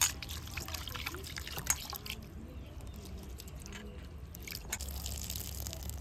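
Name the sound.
washing sago pearls with water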